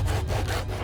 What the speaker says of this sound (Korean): 이 톱질을 아주 그냥 좀 힘있게 하려고